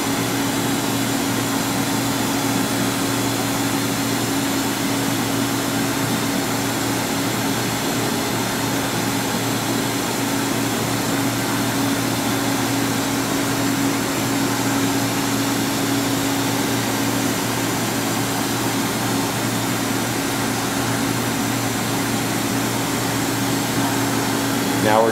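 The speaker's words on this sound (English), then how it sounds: "Here we're doing a tool change. Then we're going to show extensive movement along X and Y axis." An LK Machinery TC-1200 vertical CNC drill-tap center runs through a tool change and long X and Y axis moves, giving a loud, unbroken mechanical hum with a steady tonal whine and no clear breaks.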